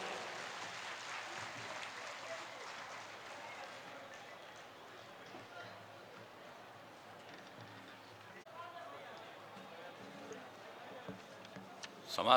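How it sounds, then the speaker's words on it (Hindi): Audience applause welcoming the Chief Minister at a public meeting for the social reform campaign in Purnia, a sustained, fairly faint wash of clapping from a distant crowd. "अनेक अनेक तालियों से पुनः माननीय मुख्यमंत्री जी का स्वागत करें उद्बोधन हेतु"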